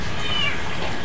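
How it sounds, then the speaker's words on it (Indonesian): Cat giving a single loud, drawn-out meow, close and clear, lasting about a second with no talk over it. "Itu kucing nakal kucing."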